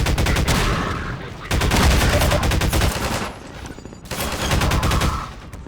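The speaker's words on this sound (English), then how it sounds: "The Combine Pulse Rifle is really quite good, from the power to the better accuracy to the sound it makes" Combine Pulse Rifle in Half-Life 2 firing three loud, close sustained automatic bursts separated by short gaps, with no voices.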